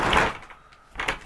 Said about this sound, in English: we're going to close this door